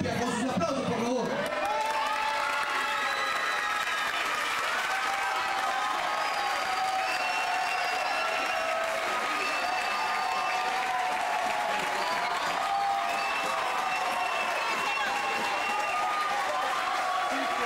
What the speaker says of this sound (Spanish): Con sus aplausos, por favor.